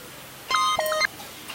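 A quick run of a few phone keypad tones, close and clear, then quiet.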